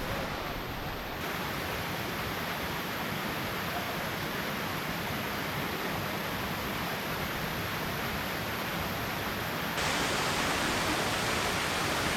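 A steady, dense roar of falling water from the Los Chorros de Las Caleras waterfalls in El Salvador, echoing between cliffs, fills the whole stretch, broad and unchanging, with a slight brightening near the end.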